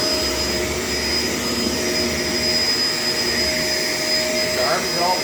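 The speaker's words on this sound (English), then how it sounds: "I actually cleaned off the back of this refrigerator with this vacuum" A Shark LA702 vacuum cleaner runs steadily, a loud continuous whine with a high motor tone and rushing airflow, close by and unbroken for several seconds.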